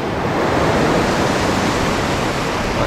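Steady, loud rushing wash of sea waves, a dense broadband roar with no break and no voices.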